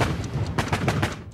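Six gunshots from a revolver fired in rapid succession, a dense run of loud, closely spaced cracks and booms packed into barely a second and a half.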